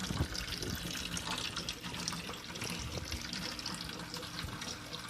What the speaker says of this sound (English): now I'm gonna start up the siphon